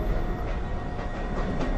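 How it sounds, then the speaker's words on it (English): A New York City subway 1 train at 207th Street station, a steady loud rumbling roar of the railcars running on the track, close and continuous, with faint rattling. "This is a Rose Street bound 1 train."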